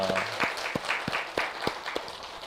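A Korean church congregation at a Friday worship service claps in praise, rhythmic unison clapping at a quick steady beat, fairly close and loud.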